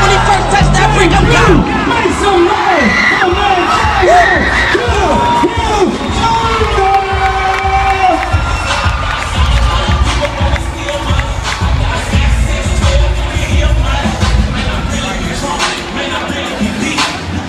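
Crowd at a boxing event cheering and shouting loudly and continuously, a dense roar of many voices with chatter, music and rapping running over it throughout.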